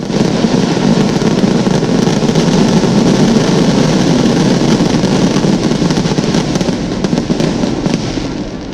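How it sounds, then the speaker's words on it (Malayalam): Fireworks at a church feast in Irinjalakuda crackle and rumble as a loud, dense, continuous barrage throughout, with no voices audible. "പിന്നെ ഒന്ന് വെടിക്കെട്ട് അത്യാവശ്യം നന്നായിട്ടുണ്ടായിരുന്നു."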